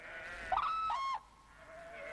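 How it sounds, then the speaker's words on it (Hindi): A sheep in Ladakh gives a single clear, wavering bleat lasting under a second, fairly close, followed by quiet open-air ambience. "कुछ भेड़ें इधर ही बढ़ रही हैं।"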